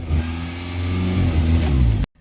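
A Nissan Sentra engine surges at a high idle of about 2,500 to 3,000 RPM. Its close, loud hum rises and falls in pitch for two seconds before cutting off abruptly.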